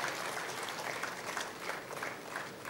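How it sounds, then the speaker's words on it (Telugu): An audience at a Telugu film audio launch applauds the whole team in a continuous, rather faint and distant wash of clapping with no talking over it. "మరొకసారి గట్టిగా చప్పట్లు"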